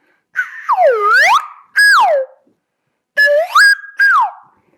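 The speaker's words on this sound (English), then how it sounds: "And these are sliders, flutes. This I use mostly for children's films and children's documentaries. Funny sounds like." A slide flute whistles comic swooping tones in three short bursts, its pitch bending down and up in playful glides with clear gaps between, loud and close with no talking.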